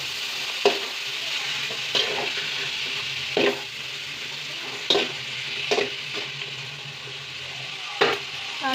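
Cooked chana dal being stirred into a pan of frying beans palya, a steady sizzle broken by several sharp scraping clicks of the spoon at irregular intervals, close and moderately loud with no talking.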